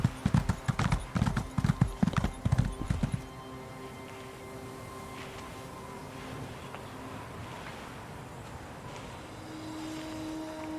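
A galloping horse mount in Elder Scrolls Online drums out quick, loud hoofbeats for about three seconds, then gives way to a low steady game ambience with faint tonal hums.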